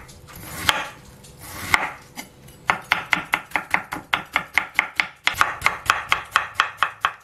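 Knife slicing a large pear on a cutting board, a few slower cuts followed by a quick, even run of sharp taps, close and clear with no talk.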